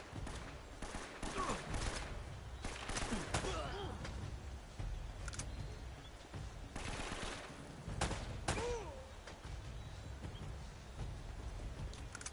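Repeated gunshots ring out in scattered bursts across a noisy firefight in the action game Uncharted: Drake's Fortune, fairly faint and mixed with ambient background clatter.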